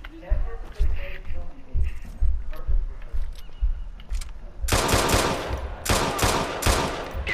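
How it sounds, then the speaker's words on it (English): Gunfire in Watch Dogs 2 during a police pursuit of gang members, starting as scattered low thumps and then turning into loud, dense bursts of shots packed close together in the second half. "Shots fired, gang members are in pursuit."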